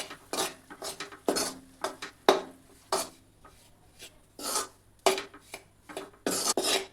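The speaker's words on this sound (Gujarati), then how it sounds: "લોટને આપણે આ રીતે હલાવતા રહી અને તેને શેકી લેવાનો છે." Wheat flour stirred and roasted in hot oil in a pan for soft sukhdi, a spoon scraping and rasping in irregular bursts, close and fairly loud with no talking.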